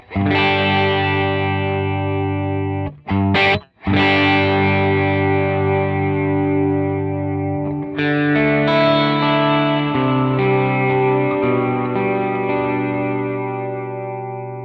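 Distorted electric guitar chords through a Boss RV-200 reverb pedal while its effect level, the wet/dry mix, is adjusted; loud sustained chords with brief breaks and a change in ringing ambience, played alone without talk.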